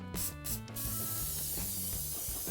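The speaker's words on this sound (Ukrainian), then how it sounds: "Перший на черзі спрей очищувач гальмівних колодок." An aerosol can of brake pad cleaner sprays onto a brake disc with a short straw for more pressure: a few brief hissing bursts, then a steady faint spray hiss with a low hum beneath.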